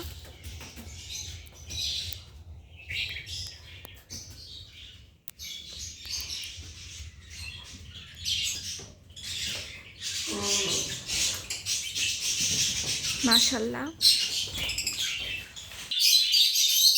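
Pet lovebirds, mostly sitting on eggs in cold, foggy weather, chirp and squawk in busy overlapping bursts nearby, with one brief spoken word.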